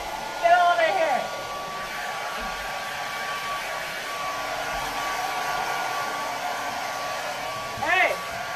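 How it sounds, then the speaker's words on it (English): A blow dryer runs continuously with a steady airy whir for the whole stretch, while a person calls out in short bursts at the start and again near the end. "Let me get the blow dryer for him."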